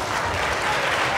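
Crowd applause fills a cage fighting event, a dense, steady wash of clapping that carries at full loudness through the whole brief moment.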